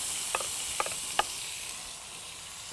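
Tomatoes go into hot oil with red chilli for a kaju curry. A quiet, steady sizzle is broken by a few sharp clicks of a utensil against the pan.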